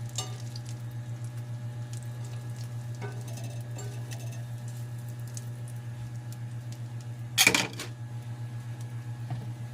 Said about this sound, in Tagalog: nilagay natin yung white onion natin